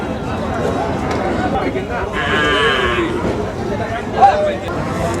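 Cattle at a busy bull market selling Sahiwal and Friesian cross bulls, with a low murmur of crowd chatter and animal sounds throughout and a brief louder call near the end.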